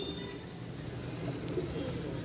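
A male pigeon coos among quality breeding pairs kept for sale, giving soft, low, repeated throaty coos close by over steady background hum.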